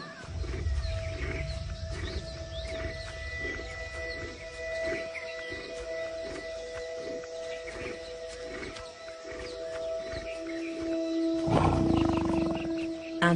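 Male tiger in the wild giving a deep, loud roar that swells near the end over a continuous bed of background noise and tonal hum.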